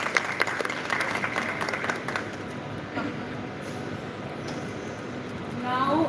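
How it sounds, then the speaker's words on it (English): Applause from an audience at a live company event for the Sudarshan Pharma Limited team at the Global Chem Expo 2023, a steady wash of clapping that rises again toward the end. "A big round of applause for all the Sudarshan Pharma Limited members."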